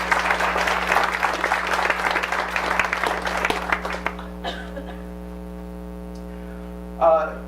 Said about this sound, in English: So let's give her a round of applause for kids.